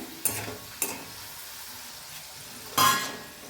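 Potato yam pieces sizzle frying in oil with three short scraping stirs of a spatula, the last one louder and longer, over a steady hiss.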